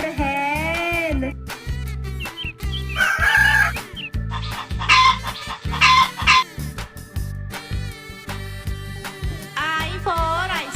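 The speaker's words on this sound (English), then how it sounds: "H for hen" Cartoonish hen clucking and rooster-like crowing in a children's phonics alphabet song, loud repeated clucks and squawks layered over bouncy music throughout.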